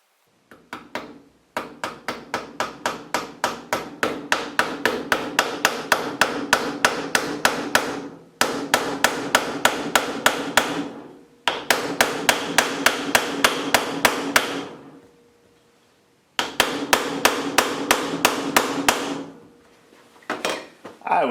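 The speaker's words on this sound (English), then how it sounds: "grab a hammer and we're gonna tap that into place" Rapid metallic hammer taps on a custom metal wing nut being pressed into place come in long, even bursts, close and sharp, separated by brief pauses before each new run of strikes.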